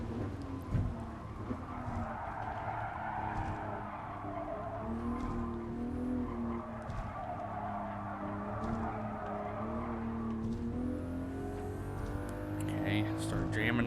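Race car in Gran Turismo Sport, an FR challenge: a continuous revving engine with shifting pitch, tire squeal and skids, running under frequent talking.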